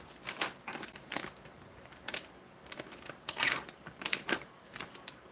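A food package in a kitchen is peeled and opened with a series of quiet, sharp crinkling and tearing snaps in irregular bursts, close up and alone.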